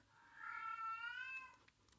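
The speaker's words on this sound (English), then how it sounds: "And there goes my cat again." A lonely male house cat lets out a single drawn-out meow lasting over a second, close and clear in a quiet room with no one talking.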